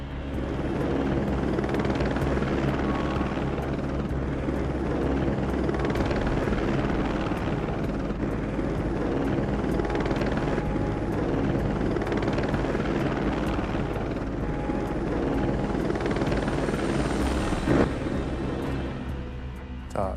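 A helicopter flies above the Chernobyl reactor while it is loaded with boron, gravel and sand. Its rotor and engine keep up a loud, steady roar for the whole stretch, with no talk over it.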